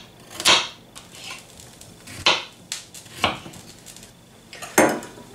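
Knife chopping leek and potatoes for potato-leek-cheese soup, a few separate knocks on a board with clinks against dishes at uneven intervals, close and fairly loud, no voices.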